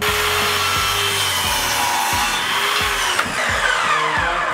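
A hand saw cuts a mitre in a wooden architrave with steady back-and-forth rasping strokes in a regular rhythm, close and loud, with no talking.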